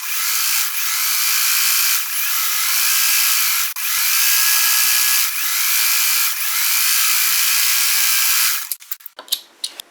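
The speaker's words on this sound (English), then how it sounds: "I'll be sewing right along this edge" A sewing machine stitches flannel rag quilt rows in a continuous rapid whirring run with a few brief pauses, ending in some scattered clicks and handling noises.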